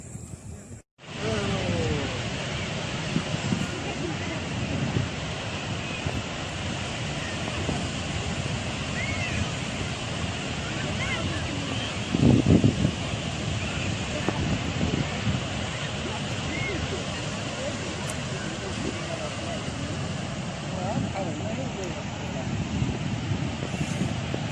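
Rough sea and wind at Bouznika beach in Morocco make a steady roar of surf and gusting wind across the microphone, continuous and loud throughout with a stronger surge midway.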